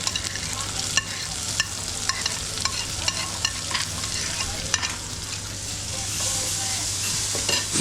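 Onions and green chilies fry in an oiled pan with cumin, producing a dense, loud sizzle with frequent metallic spatula clicks and scrapes against the pan, close-up and continuous, no talk.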